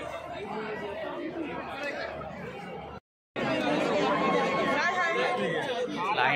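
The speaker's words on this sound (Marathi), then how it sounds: "गर्दी बघा किती आहे मित्रांनो" Dense crowd chatter from a ticket queue at DY Patil Stadium in Navi Mumbai during a women's T20 cricket match, a steady close babble of many voices with a brief silent cut midway.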